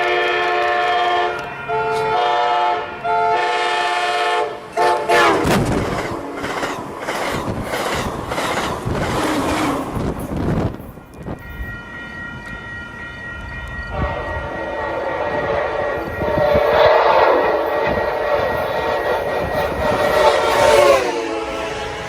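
A freight train in a Roblox game rumbles past loudly, its horn sounding in long sustained blasts over rolling wheel clatter and squealing, continuous throughout at close range.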